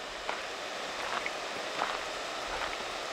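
Steady rain patters on a nearby tin roof, a dense even hiss with faint scattered drop ticks throughout and no voices.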